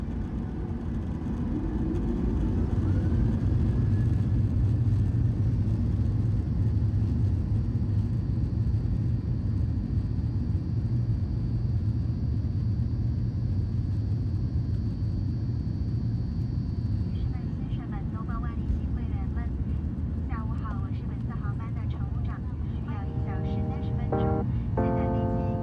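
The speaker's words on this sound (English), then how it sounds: "Taking off today on runway 18 left" A Shanghai Airlines airliner rolls down runway 18 left at Busan and lifts off, with a steady, loud low engine roar and rumble heard from the cabin throughout, rising tones joining near the end.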